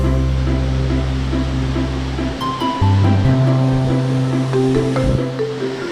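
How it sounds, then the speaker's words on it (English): Waterfall beside a restaurant in Mexico, a steady broad wash of falling water that fills the clip, loud and close, with some tonal sounds layered over it. "That's the waterfall."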